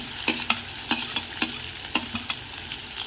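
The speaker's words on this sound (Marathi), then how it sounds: "आपल्याला कांदा आणि टोमॅटो परतून घ्यायचे आहेत फक्त ग्रेव्हीसाठी।" Onion sautéing in oil for a matar paneer gravy, a constant close sizzle broken by repeated clicks and scrapes of a spoon stirring in an irregular rhythm, no voices.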